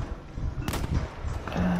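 A sharp report of sniper gunfire from Battlefield V cracks out near the middle, set against a dense, busy game soundscape with a low rumble and a sustained hum toward the end.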